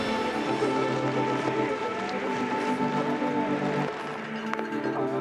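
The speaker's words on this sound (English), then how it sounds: "Rain looks like it's pouring out there again now." Heavy rain pours down during a muddy cross-country mountain bike race at Les Gets, a constant hiss of rainfall with faint background sounds and no clear voices.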